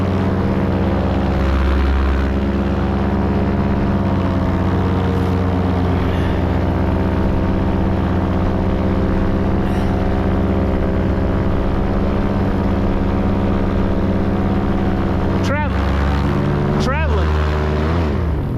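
A paramotor engine drones steadily in flight, loud and close, with a rich harmonic buzz that shifts briefly as the throttle changes near the end; wind rush mixes in throughout and no one speaks.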